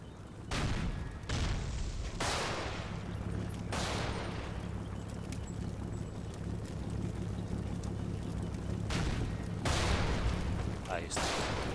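Gunfire in the Combat Mission Battle for Italy war game, sharp bursts and booming shots at irregular intervals over a steady low rumble, with a quiet voice speaking Spanish partway through.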